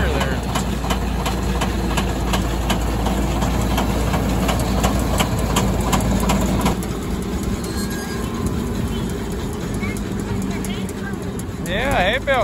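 A farm tractor engine runs steadily and fairly close while baling hay, with a low, constant drone that eases slightly partway through and a faint rattle of machinery.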